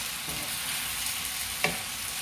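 Adobong sitaw with chicken and mixed herbs sizzling in a pan while being stirred, constant close frying hiss with a couple of light utensil scrapes.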